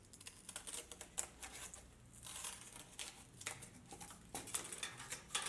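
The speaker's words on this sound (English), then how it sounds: "we're going to cut out the hole here in the cardboard, and I'm just using scissors" Scissors cut through cardboard to make a square hole: close, repeated crisp snipping and crunching in irregular bursts, fairly quiet, with no voices.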